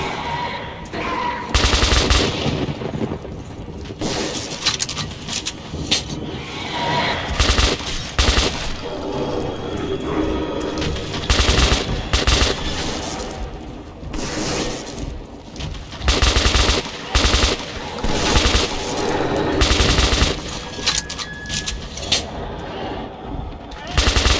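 Sustained automatic gunfire from the player's weapon in Metro 2033 Redux at the Korolev Performance Hall, loud dense bursts of rapid shots with brief pauses, continuing almost without break.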